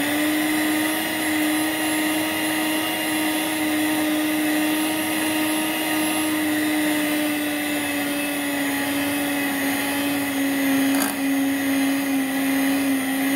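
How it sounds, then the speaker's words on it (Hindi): An electric beater whirs steadily through beetroot cake batter at home, a constant loud motor hum with a slight pitch drift and one brief knock near the end, no talking. "अब हम इसको बीट कर लेंगे"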